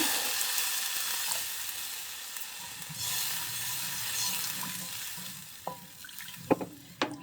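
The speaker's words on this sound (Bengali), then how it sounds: "পানি দিয়ে দিচ্ছি" Water hitting a frying spice paste of ground onion, garlic, dried chili and turmeric in a pan for a shrimp curry: a steady broad sizzling hiss that swells and fades, with a few sharp clicks and clatters near the end.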